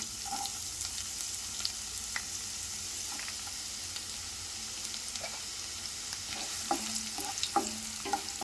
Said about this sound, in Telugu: ఆయిల్ హీట్ అయ్యాక ఎర్రగడ్డ వేసుకొని వాడ్చుకోవాలి.